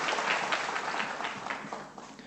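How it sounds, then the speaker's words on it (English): A lecture audience at the 2018 LUI Che Woo Prize public lecture applauds Professor Lawrence Lau, with dense, steady clapping from many hands throughout. "Why don't we give a round of applause"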